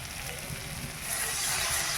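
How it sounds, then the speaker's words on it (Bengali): Water poured into frying spice paste sets off a steady, broad sizzling hiss in a pan that swells louder partway through, heard close. "মশলা ভালোভাবে ভাজা হয়ে গেছে, এইবার আমি জল দিয়ে দিলাম"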